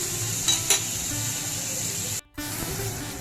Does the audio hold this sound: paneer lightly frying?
yes